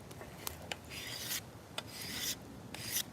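Steady rasping strokes on a maple selfbow being tillered, a blade scraping wood in long close passes separated by short pauses and small knocks, with no voices over it.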